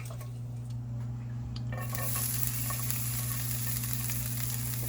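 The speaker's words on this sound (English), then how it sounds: "We chopped up some bacon, now we're gonna fry it up." Chopped bacon frying in a pan, a steady close sizzle and crackle that runs the whole time and grows brighter partway through, with a constant low hum underneath.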